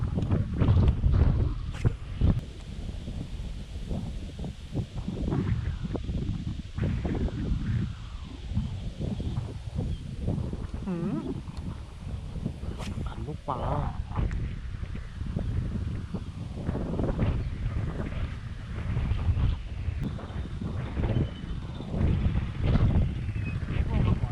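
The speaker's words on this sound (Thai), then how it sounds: "ลมแรงมาก" Strong wind blows outdoors and buffets the microphone in loud, continuous gusts for the whole stretch.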